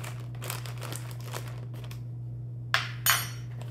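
A spoon scraping grated cheese out of a rotary cheese grater drum gives faint crinkly rustles, then two sharper clinks near the end over a steady low hum.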